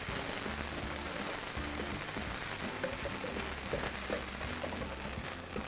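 Onion frying in a pan and being stirred with a spatula, a continuous crackling sizzle with occasional soft scrapes and clicks at moderate level.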